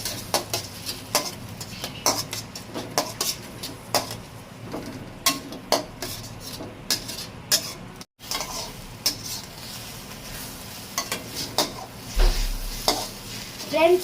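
Egg idli upma sautéing in a pan gives a constant soft sizzle under repeated scraping and tapping strokes of a spoon against the metal, close by, with one brief pause midway.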